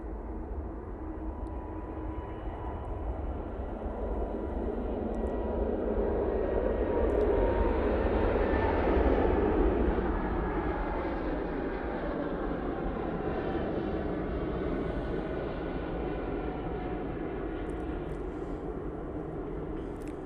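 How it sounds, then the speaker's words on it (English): A Lufthansa Airbus A320neo takes off from Manchester Airport for Munich. Its sustained jet roar swells to a loud peak midway, then settles into a steady, slightly fainter rumble, with no voices. "Right, looks like we have the Lufthansa going off to Munich"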